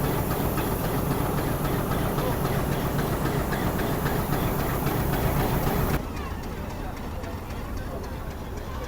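A railcar train rolls out of Lahore station, with steady dense rumbling and rhythmic clatter of wheels on track that drops noticeably quieter partway through.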